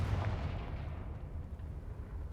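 An explosive Confringo spell blasts off in the Hogwarts Legacy video game, a loud booming burst with a heavy low rumble that decays over a couple of seconds, with no voices.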